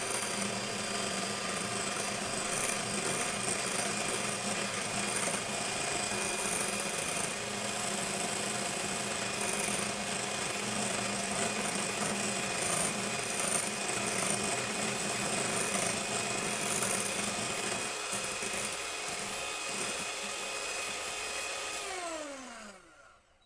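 An electric mixer whirs loudly and steadily through orange cake batter, with a continuous motor hum that holds for over twenty seconds before winding down and stopping at the end.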